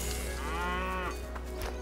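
A cow moos once in the stylized puzzle-platformer dungeon crawler Dungeons of Hinterberg, a clear drawn-out low call rising and falling over quiet game ambience.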